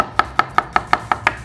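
Garlic cloves are sliced with a kitchen knife on a board while making a vegetable and cod soup, producing seven crisp, evenly paced chops close up, with no talking.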